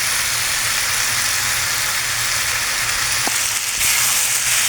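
Dry red chilies fry in a hot pan with a steady broadband sizzle and hiss, stirred throughout, with a brief scrape near the end and no voices.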